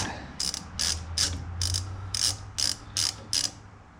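A ratchet backs out a T30 brake caliper bolt on a 2020 Polaris General XP 1000, making about nine quick metallic clicking bursts in an uneven rhythm, close and clear, with no voices.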